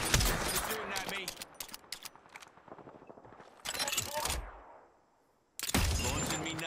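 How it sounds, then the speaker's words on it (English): Gunfire in the video game Apex Legends: rapid bursts of shots crackle close and loud, then fall silent briefly before another burst, with a person talking over the fighting. "You're shooting at me."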